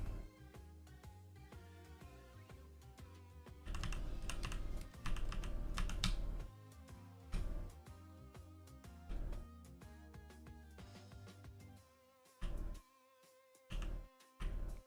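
Fingers type on a computer keyboard while coding, a close, quiet clatter of keys in bursts, with dense runs broken by short pauses and isolated taps near the end.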